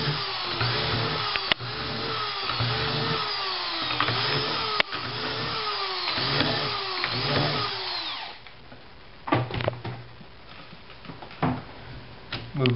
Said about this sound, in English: So then again, we just have to drill the proper holes.